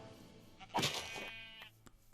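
Minecraft sheep bleating in a survival game, one short bleat rising near the middle and standing clear over a quiet in-game background.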